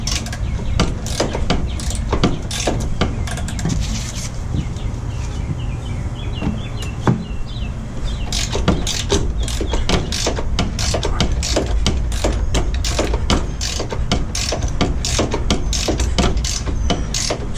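Close, rapid metallic clicking from a breaker bar and ratchet working a bolt loose on the back step of a 1997 Dodge Ram, repeating steadily with a short lull partway through.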